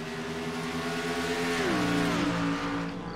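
Stock cars, a Chevy Camaro and a 71 Dodge, race at New Hampshire, their engines roaring loudly and continuously as one car's pitch swoops downward while it passes close by, with no talk.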